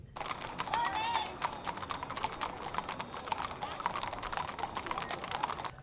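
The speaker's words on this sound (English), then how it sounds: "A horse parade started the event downtown." Horses clip-clopping along a downtown street during a rodeo-season kickoff parade in cold weather, a steady stream of hoof strikes on pavement with crowd murmur beneath.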